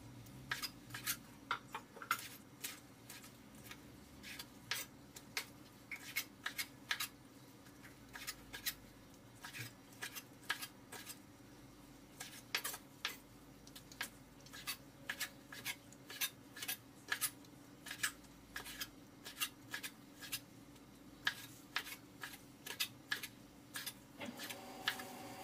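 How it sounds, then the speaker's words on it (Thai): A kitchen knife chops squid into bite-sized pieces on a cutting board for Thai basil squid stir-fry, with sharp, irregular knocks landing steadily and close for the whole stretch, no talking. "เราไปเริ่มหั่นปลาหมึกกันเลยครับแล้วก็หั่นเป็นชิ้นพอดีคำแบบนี้นะครับ"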